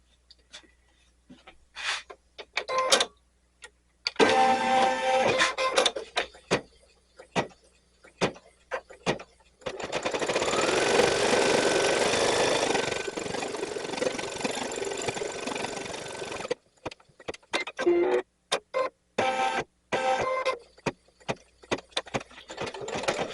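An embroidery machine stitches the applique placement for letters, giving off rapid needle clatter in bursts with a steadier sustained whir in the middle, moderately close with no talking.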